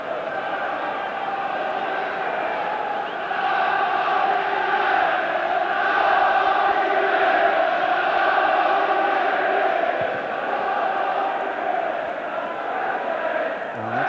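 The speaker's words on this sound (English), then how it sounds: "United crowd appealing for the corner." A large football crowd in a 1990 FA Cup third-round stadium, Manchester United supporters, roars in a sustained, steady swell of massed voices that rises mid-way and holds loud throughout, with no distinct commentary over it.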